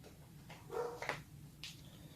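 Dogs barking and whimpering somewhere in the background of an indoor room: a few short, faint yips and whines spread over about two seconds, distant and quiet.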